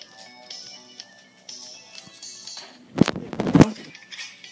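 Gunfire in the shooter video game Optical Inquisitor: a dense cluster of loud, sharp shots bursts out around the middle of the clip over busy game music and sound effects.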